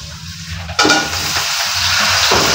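Fish dropped into a pan of sautéed onion, ginger and chili, bursting into a loud, steady sizzle that swells suddenly and keeps frying close up, with a brief stir partway through.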